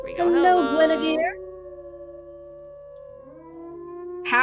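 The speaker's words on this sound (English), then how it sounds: "Howl." A wolf in the video game WolfQuest lets out a long, loud howl, starting with rough wavering notes and then sustaining a smooth tone that bends upward near the end.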